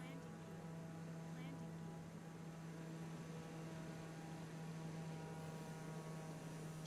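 Steady droning aircraft engine hum with a strong low tonal band in Microsoft Flight Simulator, holding at a constant level throughout after the power is cut over Cape Canaveral, with no talk.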